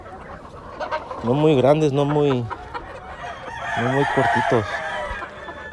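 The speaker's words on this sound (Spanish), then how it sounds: "Bien lo mudos que salieron estos gallos, estos giritos." Giro roosters on a farm crow in two long harmonic calls, the second shorter, with soft clucking in between and someone speaking quietly in the background.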